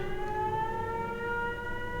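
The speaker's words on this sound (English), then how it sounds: "the best part of the system is the siren" A settlement gate alarm siren in the video game Fallout 4 wails steadily with layered sustained tones, loud and continuous with no talk.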